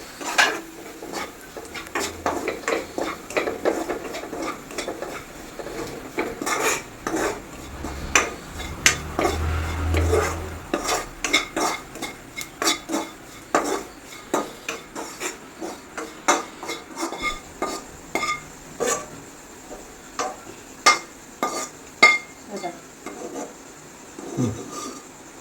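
Masala roasting in a pan, stirred with a metal utensil, giving repeated close scraping and clinking taps against the pan in an uneven rhythm, with no talking.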